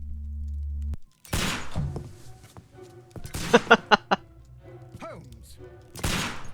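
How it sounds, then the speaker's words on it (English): A quick burst of about five sharp gunshots rings out mid-scene in the Sherlock Holmes Crimes and Punishments video game (Black Peter case), among thuds and other game sounds, with brief speech nearby. "Gunshot."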